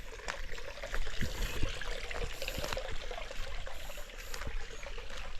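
A forest stream flows and trickles steadily nearby, a continuous watery babble with small splashes and no voices over it.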